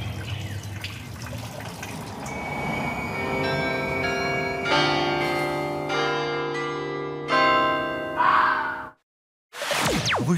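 Layered bells ring out from the tower of Sainte-Gudule cathedral in Brussels, sustained and overlapping, with separate strikes swelling in before a brief silence and another clang.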